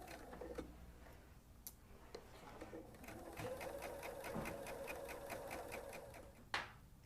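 A sewing machine stitches along the edge of a Christmas tree napkin in a steady, rapid mechanical run at close range, with a few short stops and a brief clack near the end.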